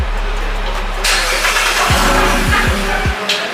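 A Chevy engine running loud and close after a new Y-pipe install, with a steady low exhaust rumble and several quick revs rising and falling near the end.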